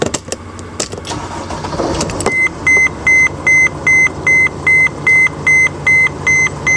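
A 2010 Mercedes-Benz Sprinter engine cranks and catches with a rough mechanical rush, then settles into a low idle under a loud, evenly repeating warning chime of about a dozen beeps.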